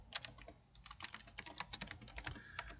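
Rapid keystrokes on a computer keyboard as a folder name is typed in editing software, a steady close clatter of individual key presses with no voices.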